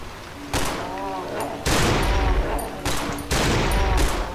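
Shotgun blasts in the horror video game Cry of Fear: four loud, heavy shots at irregular intervals, each with a sharp attack and lingering boom, close and dominant.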